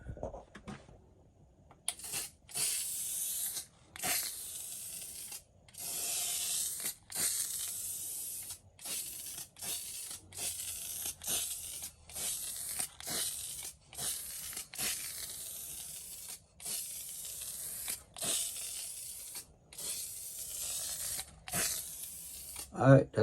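Clear coat is sprayed onto a 2013 Ford C-Max headlight during restoration in a string of short, hissing aerosol bursts separated by brief silent gaps, close and fairly quiet.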